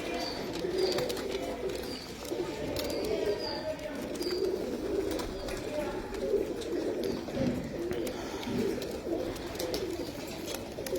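Pigeons at a fancier's loft coo continuously, low throaty rolling calls repeating at close range, with occasional higher chirps from small birds and a voice in the background.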